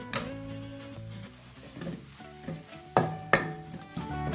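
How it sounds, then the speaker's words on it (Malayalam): Chicken being stirred in a pan with spice powders and a spoonful of ghee for an Idivettu chicken dish, with steady frying sizzle and scraping strokes, including two sharper clacks of the spoon against the pan near the end, no talking. "എല്ലാം കൂട്ടിയിട്ട് നല്ലതുപോലെ ഒന്ന് മിക്സ് ചെയ്ത് കൊടുക്കണം"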